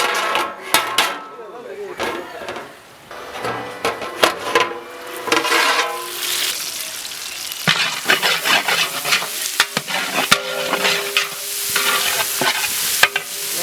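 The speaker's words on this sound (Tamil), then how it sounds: "வெங்காயம் ரொம்ப இலை நல்லா வதங்கிருச்சு" Onions sautéing in a pan for vegetable biryani, with loud stirring scrapes and clatters over a continuous sizzle, close up and busy throughout.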